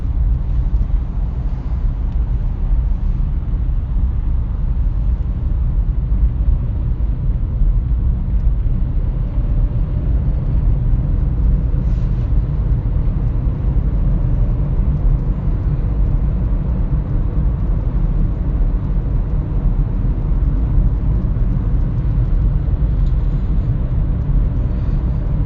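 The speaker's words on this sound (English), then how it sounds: "So we got some traffic" A steady, unbroken rumble of road and engine noise from inside a car moving through traffic, holding the same level throughout with no voices.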